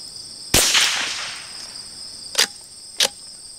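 Browning T-Bolt rifle firing subsonic rounds outdoors: one sharp crack with a lingering tail, then two more short, quieter reports spaced about half a second apart, over a steady high insect drone.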